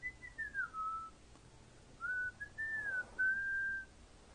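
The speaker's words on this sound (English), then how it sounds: "I stood there, listening to the whistling come closer" Eerie whistled tune drifting past a house at night around 3 AM, in two separate phrases of gliding, wavering notes, the second longer and steadier, faint and somewhat distant over a quiet background hiss.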